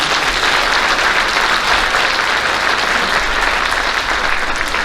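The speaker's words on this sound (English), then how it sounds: "And let's give Doc one more round of applause" Sustained audience applause fills a faculty and staff back-to-school meeting, steady and dense throughout with no break.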